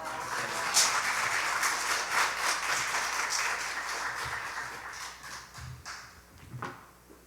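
A church congregation at a Sunday service applauds steadily to welcome the pastor, a dense wash of clapping from many hands that gradually thins out toward the end.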